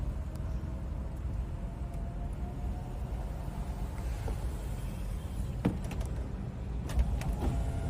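A 2017 Mini Convertible's electric roof motor runs with a faint, steady low whirring hum, with a few soft mechanical clicks toward the end.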